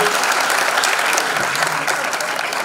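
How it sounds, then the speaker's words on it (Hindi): Dense audience applause at a music talent showcase, a continuous wash of clapping from a sizable crowd, loud and even for a few seconds. "जोरदार तालियां बरकरारी अनन्या के लिए।"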